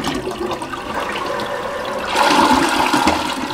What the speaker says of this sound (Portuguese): vou dar uma descarga pra vocês verem